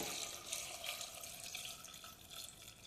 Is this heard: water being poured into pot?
yes